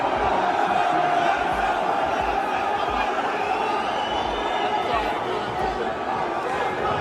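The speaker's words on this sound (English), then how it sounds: "listen to the crowd" Fight-night arena crowd roaring and shouting in a continuous dense wall of noise, loud and steady throughout, with scattered whoops and cries rising out of the din and voices chattering close by.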